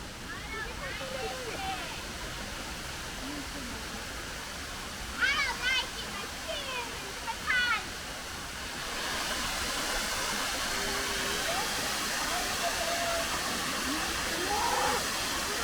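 A woodland waterfall in Wepre Woods, North Wales, gives a steady broad rush of falling water that grows louder partway through, with faint birdsong and voices over it.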